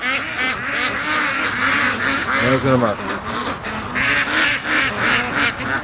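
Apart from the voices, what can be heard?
riled-up free range ducks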